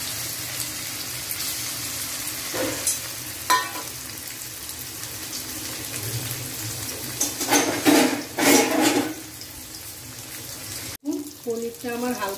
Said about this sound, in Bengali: পনিরটা আমার হালকা করে ভাজা হয়ে গেছে